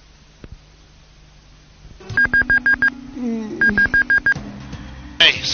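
Telephone keypad tones in two quick bursts of about five evenly spaced beeps each, with a short gap between them, followed by a louder sound at the end; the room is otherwise fairly quiet.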